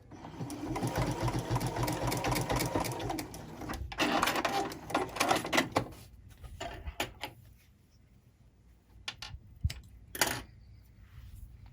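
Sewing machine backstitching the end of a seam on a fabric chain garland: a fast, steady mechanical whir runs for several seconds, pauses, then gives a few shorter bursts and clicks, close by with no talk.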